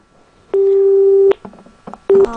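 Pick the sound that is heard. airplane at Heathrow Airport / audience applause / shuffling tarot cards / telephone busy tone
telephone busy tone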